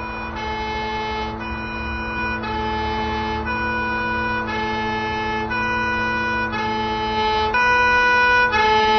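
A siren in a video game sounds a repeating two-tone wail, alternating regularly for several cycles over a low vehicle rumble, steady and fairly loud.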